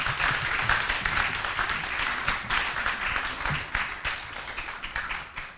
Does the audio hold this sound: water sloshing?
no